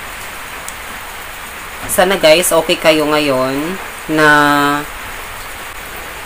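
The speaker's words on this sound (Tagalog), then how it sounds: "umuulan talaga dito sa amin ngayon" Steady rain falls outdoors in Isabela, a constant soft hiss running underneath someone talking.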